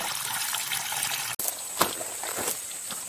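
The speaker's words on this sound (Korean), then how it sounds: "마늘이 충분히 당기게끔 물을 주고" Water poured over a garlic bed in a garden plot, a steady splashing gush with a brief break and a few louder spatters, close by with no voices.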